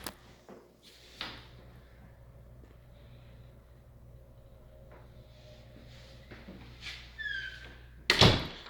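A door leading into the laundry room of a rental house is opened. Scattered soft thunks and handle clicks are followed by a louder knock or slam near the end, all heard over a quiet indoor room tone.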